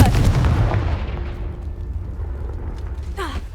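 A Confringo blasting spell detonating in Hogwarts Legacy, a loud, booming explosion up front that rumbles and fades over a few seconds, with a faint crackle near the end.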